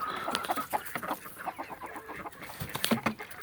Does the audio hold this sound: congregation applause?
no